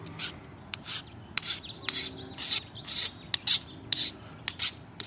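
A traditional Aboriginal flint knapping tool is sharpened with short, repeated rasping strokes, about a dozen scrapes in a steady rhythm, close and fairly quiet, with no talk.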